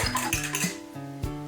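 A fork clinks briskly against a mixing bowl while beating three eggs, a few quick metallic taps and scrapes close up.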